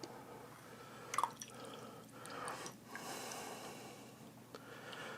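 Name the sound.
liquid draining out of canned tuna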